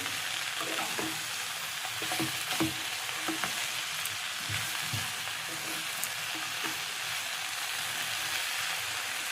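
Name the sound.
stirring food frying in a pan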